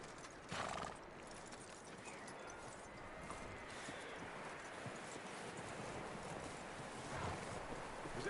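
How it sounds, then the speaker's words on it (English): Horse hooves clip-clopping at a steady walking rhythm in the video game Red Dead Redemption 2, a continuous moderate clatter over a soft wind-like outdoor bed, with a brief louder knock near the start. "That looks like a decent horse."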